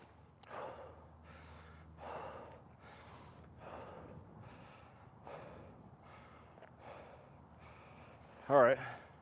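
Heavy, rhythmic panting after a round of burpees, repeated gasping breaths close and fairly quiet, with a louder burst near the end.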